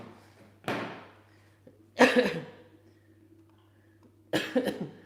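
Three separate coughs, close and fairly loud, spaced a second or two apart over a faint steady hum.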